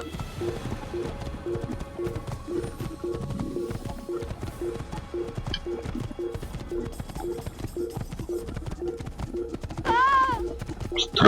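Galloping horse hooves in Assassin's Creed set in Damascus, a steady rhythmic clip-clop running throughout at moderate level, with a brief whinny near the end.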